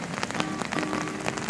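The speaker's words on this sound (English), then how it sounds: "it's raining a lot" Heavy rain falls outdoors among blooming cherry blossoms in Japan, a dense, steady hiss of drops pattering on surfaces, loud and continuous with no voices.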